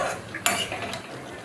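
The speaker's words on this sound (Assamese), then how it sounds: "মই মাজে মাজে হেতাৰে লৰাই থাকিলোঁ যাতে তলত লাগি নধৰে" Spatula stirring mixed vegetables in a pan, Assamese-style labra, with scraping and clinking against the metal and a soft sizzle underneath, one sharper knock near the middle.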